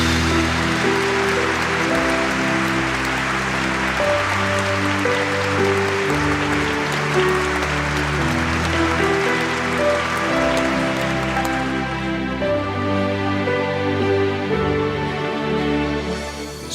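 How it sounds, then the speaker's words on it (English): Applause from an audience at an International Women's Day 2024 gathering welcomes a spiritual leader onstage, a dense clapping wash blended with steady sustained music, thinning out near the end while the music continues. "Please join me in welcoming with a huge round of applause Swami Mukundanand."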